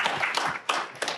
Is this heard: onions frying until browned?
no